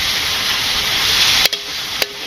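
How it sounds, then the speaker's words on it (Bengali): Meat is sautéed with fried potatoes in a pan, producing a loud, steady close sizzle broken by two brief clattering stirs near the end, with no speech. "মাংসটা একটু ভালো করে কষিয়ে নেই"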